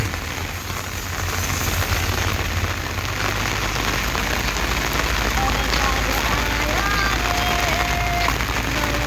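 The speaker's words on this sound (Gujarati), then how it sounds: "વરસાદ આવે છે" Heavy rain falling in a continuous loud roar of drops on surfaces, with a faint whistling tone near the end and possible voices under the downpour.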